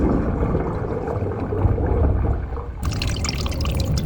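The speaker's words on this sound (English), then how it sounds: "Let's flush the toilet in here and follow the water" A household toilet flushes and its water drains away with a steady rushing pour. A brighter splashing gurgle joins in near the end.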